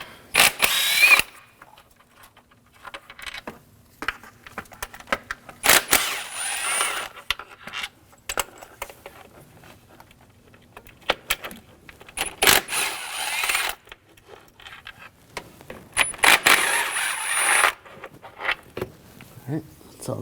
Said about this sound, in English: And we'll take the bolts out.